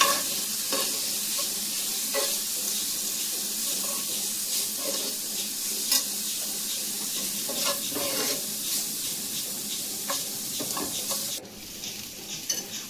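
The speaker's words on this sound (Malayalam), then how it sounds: "മാഗി ക്യൂബിൻ്റെ കട്ടകളൊക്കെ ഒന്ന് ഉടച്ച് കൊടുത്ത് നന്നായിട്ട് എല്ലാം ഒന്ന് യോജിപ്പിച്ചെടുക്കണം." Masala with a crumbled Maggi cube, for chicken noodles, being stirred and fried in a pan: a steady sizzle runs underneath while the spoon scrapes and stirs at irregular intervals, with no talking.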